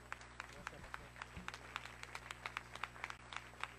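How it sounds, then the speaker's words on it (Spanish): A church congregation at an ICCFA service claps in a quick, steady rhythm, moderately distant and fairly faint, with voices mixed in. "Un aplauso al Señor fuerte."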